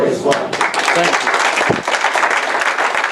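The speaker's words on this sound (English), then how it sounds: "Can we please have another round of applause for the master teacher, Elder Shadrock?" A large audience at the New Day Israelite Conference bursts into sustained applause, dense clapping rolling steadily throughout, with voices mixed in beneath the crowd noise.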